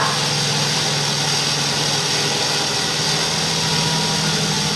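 A series-wound DC motor runs steadily during a lab practical, giving a constant loud whirring hum with no pauses and no talking.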